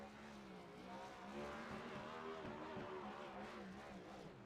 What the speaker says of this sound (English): Yeah, it's definitely the slowest car coming into pit lane.